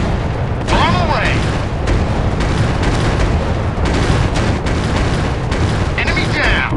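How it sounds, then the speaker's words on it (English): Bombs dropped in a World War II air combat video game burst as deep, continuous booming explosions amid engine roar, with a few whistling swoops, loud and dense throughout, while game voices call out over the din. "Bomb away."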